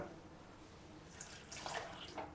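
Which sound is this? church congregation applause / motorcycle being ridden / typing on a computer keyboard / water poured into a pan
water poured into a pan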